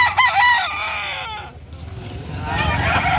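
A gamefowl rooster crows loudly nearby at a market in Carbon, Cebu, its call rising and trailing off, followed by more crowing and clucking from other birds.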